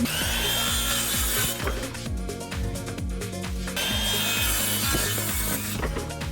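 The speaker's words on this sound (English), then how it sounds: "So butt your square up against the saw and then just put the blade against the line." A handsaw cuts through a 2x4 wooden board while building a blanket ladder, its rapid back-and-forth strokes rasping steadily and loudly up close, with no talk.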